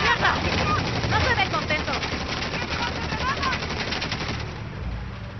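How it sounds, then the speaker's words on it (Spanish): Rapid machine gun fire rattles in continuous, dense bursts during play of the video game Uncharted: The Lost Legacy, loud and steady throughout, with a voice talking over it. "Tengo una super mega ametralladora, boludo."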